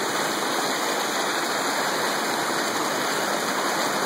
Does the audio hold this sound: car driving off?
no